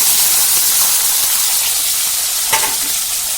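Onion and tomato frying in oil in a pan with cinnamon and cloves, a dense, loud, steady sizzle and hiss close up, one brief knock near the end, no talk.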